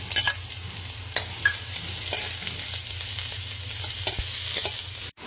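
Garlic and ginger sauté in a hot pan for ginataang langka with shrimps. A steady, close sizzle carries throughout, with occasional light clicks of stirring, then cuts off abruptly at the end.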